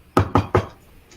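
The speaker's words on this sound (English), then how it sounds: "He'll go up to the door and knock." Three firm knocks on a rounded oval door in a tabletop role-playing scene, evenly spaced and close, followed by quiet.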